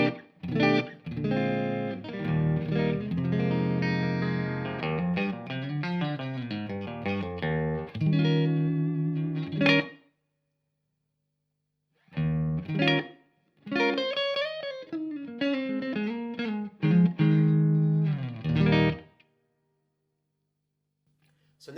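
Electric guitar through a Brookfield tube amp playing chords and melodic runs with a warm, drenched reverb tail, broken by a short silent pause before the playing resumes.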